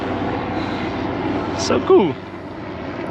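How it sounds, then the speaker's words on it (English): Two army helicopters pass overhead outdoors, a steady low rotor and engine drone under constant wind-like noise, briefly swelling louder as they fly by while a person speaks briefly. "Nice helicopter. Oh, 2 helicopters."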